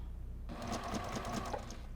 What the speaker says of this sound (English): we're going to go to our sewing machine and stitch down these 3 seams